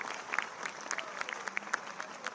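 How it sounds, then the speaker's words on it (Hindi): An audience claps for the guests on stage at a National Youth Day event, a dense patter of many hands with a few sharp, close claps standing out, fairly soft and with no talking. "एक बार जोरदार तालियां मंच पर हमारे"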